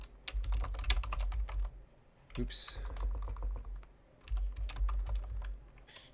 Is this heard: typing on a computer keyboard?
yes